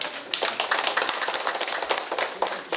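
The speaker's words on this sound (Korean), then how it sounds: "우리 홍하심 사모님 한번 박수를 쳐드립시다." A church congregation claps together, producing a brisk, uneven patter of many hands that sounds close and lively and lasts a few seconds without speech.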